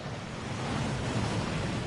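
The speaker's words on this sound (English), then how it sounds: "That waterfall washes away all enchantments." A waterfall in the Gringotts vaults of the video game Hogwarts Legacy rushes in a dense, steady roar, close and fairly loud, swelling slightly as it goes on.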